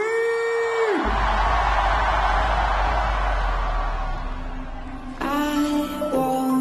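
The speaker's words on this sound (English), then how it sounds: "Everybody scream!" Festival crowd at a Steve Aoki closing set on Perry's Stage at Lollapalooza 2021, a loud sustained roar of screaming and cheering over a deep bass drone, with synth tones rising at the start and returning near the end.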